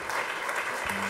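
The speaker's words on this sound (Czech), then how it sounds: "to je takový opatrný potlesk" Brief, dense audience applause at an autumn workshop event, a steady wash of many hands clapping at even loudness.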